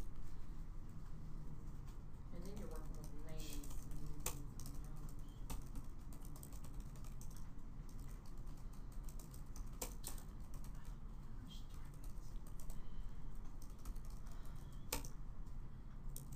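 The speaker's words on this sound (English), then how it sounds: "fingers on the keyboard, so I'll type all the names first" Fingers type names on a computer keyboard while entering data into an Excel spreadsheet, producing a steady run of soft, close clicks over quiet room background with faint birdsong.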